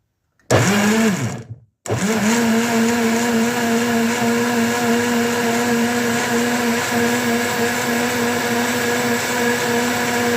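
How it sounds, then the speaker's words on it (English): A blender whirs loudly while blending strawberry juice, starting with a short run, cutting out for a moment, then restarting into a steady, unbroken motor roar. "That blender did not blend, so I have to transfer it to this other one."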